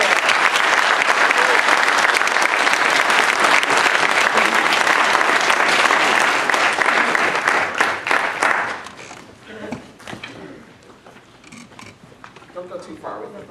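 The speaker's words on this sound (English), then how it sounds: "I ask that you please join me in giving the organizers a round of applause" An audience at a Black History Makers celebration of Malcolm X at Jackson State University gives the organizers loud, sustained applause that fades after about nine seconds into scattered claps and crowd murmur.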